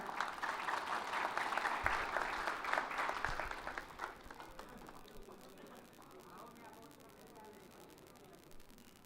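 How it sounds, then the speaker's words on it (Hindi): Applause at a mushaira poetry gathering in Saharsa, Bihar, a crowd clapping loudly for several seconds before it fades into quieter room noise with some voices. "एक जोरदार तालियां"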